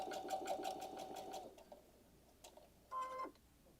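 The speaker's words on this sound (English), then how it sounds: "So now we're sewing that at a 1/4 of an inch, and we're just encasing that raw edge" A sewing machine stitches a quarter-inch seam with a rapid, rhythmic needle clatter for about a second and a half, then pauses, gives a few light clicks and whirs briefly again.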